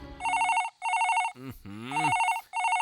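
A telephone rings in repeated electronic bursts, loud and close, with a brief gliding tone breaking in between rings.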